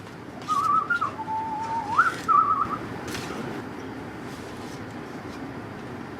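A person whistles a short, wavering tune of a few rising and falling notes while mixing scone dough in a college kitchen, heard over a steady background hum that carries on alone after the tune stops.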